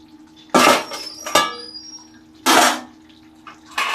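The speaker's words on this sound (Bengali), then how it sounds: "বন্ধুরা দেখুন আমি ঢাকাটা খুলছি" A lid on a pot of mutton curry gives several loud, close metallic clanks and scrapes as it is lifted off and handled, separated by short quiet gaps.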